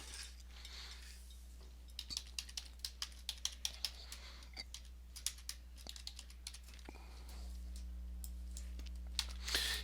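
A computer keyboard clatters with a run of close, crisp keystrokes at an uneven pace while a world name is typed, over a low steady hum and with no speech.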